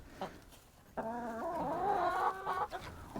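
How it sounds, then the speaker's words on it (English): Rhode Island Red chickens cluck and squawk up close, a short cluck at the start followed by a sustained, loud, wavering call lasting well over a second, then a few quieter clucks trailing off. "My buddy said these are Rhode Island Reds."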